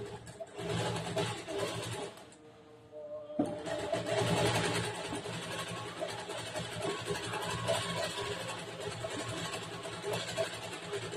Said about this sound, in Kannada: ಈ ಕಡೆ ಸೈಡ್ಗೆ ಹೊಲಿಗೆ ಹಾಕ್ತೀನಿ